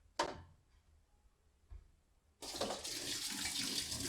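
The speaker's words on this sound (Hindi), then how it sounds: "तो चलो शुरू करते हैं इसमें पानी भरना।" Water pours into a tub, starting after a couple of faint knocks and then turning into a loud, steady gushing rush that continues to the end.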